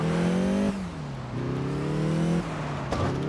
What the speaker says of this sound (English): Sounds like somebody's racing next to me